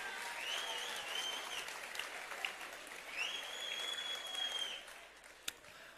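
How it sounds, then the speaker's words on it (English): Audience at a talk in Sydney applauding, a continuous wash of clapping with a few whoops, fairly faint and distant, tapering off toward the end. "Give them a round of applause."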